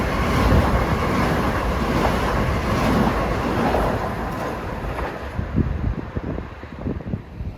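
A Long Island Rail Road commuter train from Babylon to Penn Station rolls into Forest Hills station during the morning rush, a loud, steady rumble with wind buffeting, easing into rhythmic clatters of wheels over rail joints.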